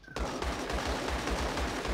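Rapid automatic gunfire in a shooter video game, a loud steady burst of repeated shots lasting nearly two seconds after a brief quiet start.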